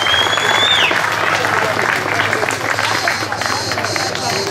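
Crowd applause at a slalom race award ceremony, steady clapping from many people with murmured voices and a faint whistle-like tone near the start, continuing evenly throughout.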